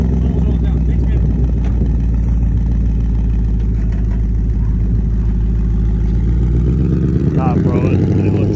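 A 2020 Ford Mustang GT V8 exhaust rumbles loudly and steadily at close range, its deep drone filling the whole stretch while people talk over it.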